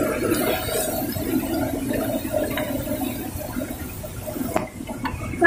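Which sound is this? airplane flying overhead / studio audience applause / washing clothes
washing clothes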